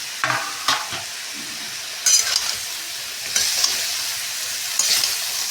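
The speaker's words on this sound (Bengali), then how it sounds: "মশলাটা পুড়ে না যাওয়ার জন্য আমি একটু করে জল দিয়ে মশলাটাকে ভালোভাবে কষিয়ে নিচ্ছি" Spice paste cooks down in a pan with fried bitter gourd and yardlong beans, a soft steady sizzle broken by several brief scraping stirs.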